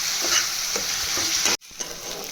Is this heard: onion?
yes